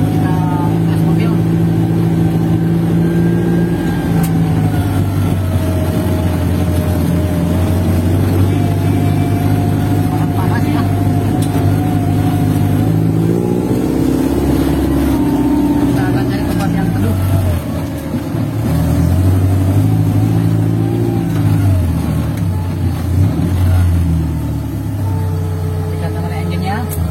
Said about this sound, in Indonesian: Biar teman-teman bisa lihat kita tes mobil.